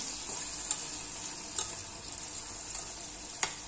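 Prawn pickle with lemon juice sizzles quietly in a pan as it is stirred, a steady hiss broken by a few faint spoon clinks against the metal, with no talking.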